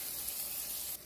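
Tomatoes and garlic sizzle steadily in a frying pan for shakshuka, a dense, even hiss that holds close and loud before dropping off sharply right at the end.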